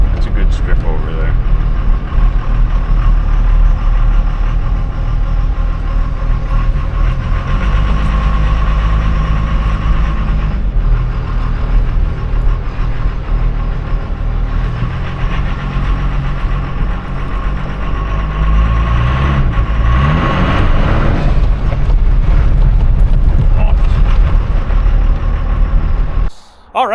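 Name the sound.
12V Cummins diesel truck engine running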